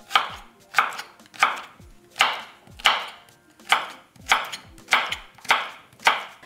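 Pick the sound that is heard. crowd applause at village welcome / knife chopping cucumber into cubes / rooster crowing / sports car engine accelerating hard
knife chopping cucumber into cubes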